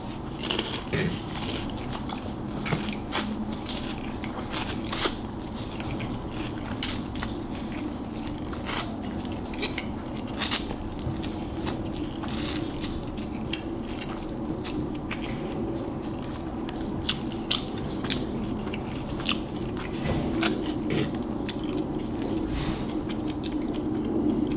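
Someone chews Wendy's Hot Cheetos noodles close to the mic, with soft wet squishes and occasional crisp crunches and bites repeating over a steady low room hum, no talking.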